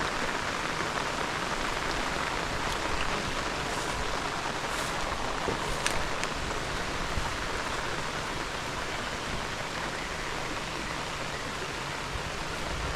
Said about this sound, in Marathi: आता तो पाऊस ना ह्यो अणब्यांचा पाऊस असता तसो लागता बारीक सारीक येऊन जाऊन